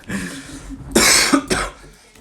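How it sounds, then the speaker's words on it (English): A person coughs harshly at close range, two rough bursts in quick succession after a softer throat sound. "I'm coughing a lot."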